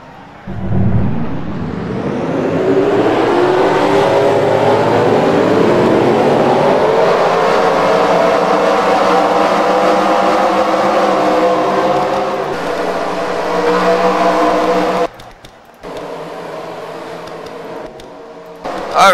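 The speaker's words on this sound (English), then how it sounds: "And the engines has been fired here at Las Vegas." Race car engines at Las Vegas firing up and revving loudly together, the roar climbing steadily and holding for about fifteen seconds before dropping away abruptly to quieter rumbling.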